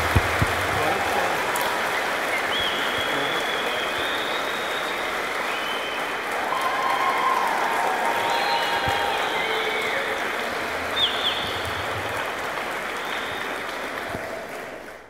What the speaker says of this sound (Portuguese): Eu queria convidar a todos uma salva de palmas para o novo casal.